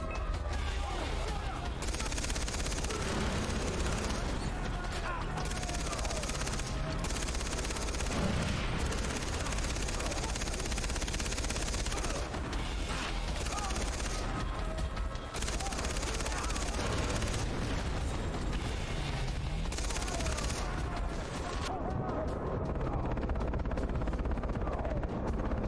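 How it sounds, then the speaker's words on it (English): Sustained machine gun fire in the shooter Far Cry 3, a dense, continuous roar of shots and explosions across the whole stretch, loud and unbroken, with talk occasionally over it. "Use a machine gun. I am going in."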